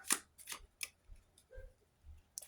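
A few quick, crisp card flicks and riffles, quiet and close, with short gaps between them.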